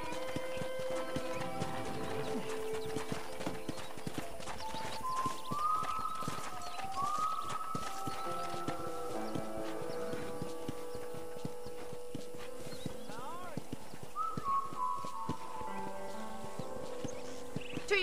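Horse hooves clip-clopping during a ride in Red Dead Redemption on PS3, a steady, quiet rhythmic trot under soft music tones, with faint neighs along the way.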